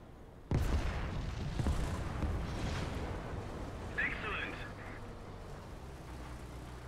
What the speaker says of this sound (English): That sounds like a 50 millimeter.